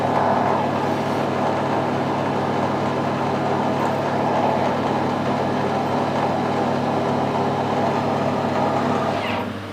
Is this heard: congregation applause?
no